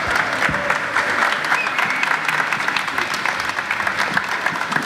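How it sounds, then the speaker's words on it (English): A gym crowd at an athletic club seminar gives sustained, loud, even applause with clapping and light cheering, steady throughout. "round of applause for these guys"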